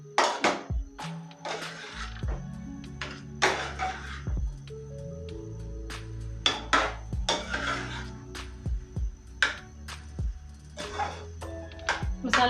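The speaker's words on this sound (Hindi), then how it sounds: "मसाले को हम अच्छे से मिक्स करेंगे।" A spoon scrapes and knocks against a cooking pot while spices are stirred into potatoes, giving irregular close metallic clinks and thuds over a low background hum.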